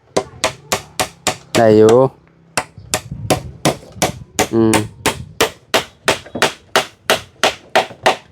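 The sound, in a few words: hammering wood while cutting timber to build a house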